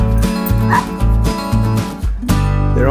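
Several dogs bark and yip rapidly and loudly at close range, a busy overlapping burst of sharp barks with a brief lull before more barking.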